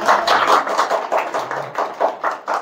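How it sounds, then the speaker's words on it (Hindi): Group clapping at a summer camp's last-day gathering, in loud, spaced bursts of synchronized claps with a rough steady rhythm, close and clear with no talk. "जोरदार तालियां।"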